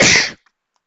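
A single sharp sneeze, close and loud, cut off quickly and followed by silence.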